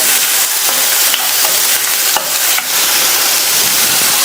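Chopped onion with green and dried chilies frying in a pan makes a loud, continuous sizzle, broken by occasional stirring clacks and brief dips, close up and with no talking.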